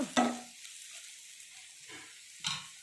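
Turmeric and chili powder are stirred in a frying pan, with two short scraping strokes near and far apart and a faint sizzle between them, no talking.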